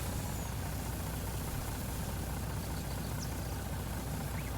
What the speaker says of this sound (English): The engine's still running